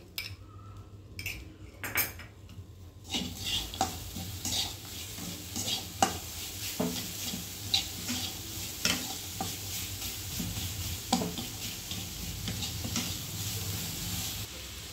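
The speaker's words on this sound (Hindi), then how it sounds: "अब हमें गैस बंद कर देना है और इसे कंटिन्यू हिलाते रहना है" Roasted grated coconut and jaggery stirred in a pan for modak filling, repeated metal spoon scrapes and clinks over a soft sizzle, close and clear, with quiet moments at the start.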